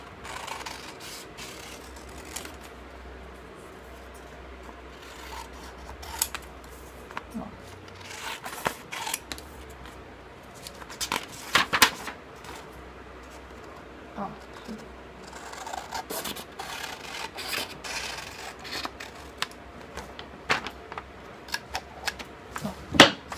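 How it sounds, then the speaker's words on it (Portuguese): Scissors cutting a paper sleeve pattern, a series of irregular sharp snips and paper rustles, close and fairly quiet, with quiet stretches between cuts. "Vou pegar minha tesoura aqui. Vou cortar na frente de vocês."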